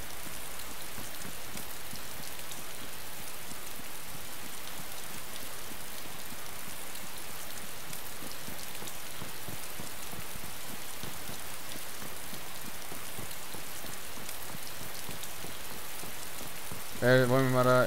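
Steady rain falls in the video game DayZ Standalone, a dense, even hiss of drops on surfaces that holds for the whole stretch, with a brief burst of another sound at the very end.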